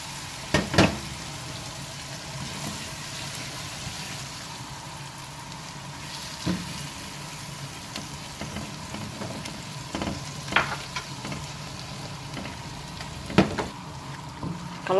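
Shrimp paste (terasi) frying in a generous amount of oil, continuous bubbling sizzle with occasional crackles and utensil clicks, close and moderate in volume.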